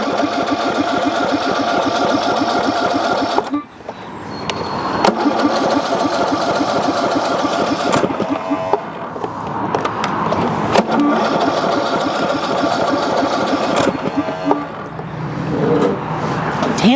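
A tractor engine cranking on a weak battery, with repeated labored bursts of starter grinding broken by short pauses, loud and close, with brief talk in between.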